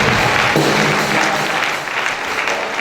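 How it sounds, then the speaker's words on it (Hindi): Congregation at a Sunday healing and deliverance church service claps loudly for God, a thick continuous wash of applause filling the room with some voices mixed in. "कोई ताली बजाओ परमेश्वर को।"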